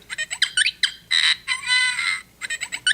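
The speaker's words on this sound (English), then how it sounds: "And he makes R2-D2 noises." A toy R2-D2 robot chirps out a string of warbling electronic beeps and whistles, short bursts with a couple of longer tones, close by.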